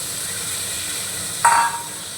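Chopped tomato drops into spices frying in a pan and sets off a sudden, brief burst of sizzling that rises over a steady, soft frying hiss and settles back within a fraction of a second.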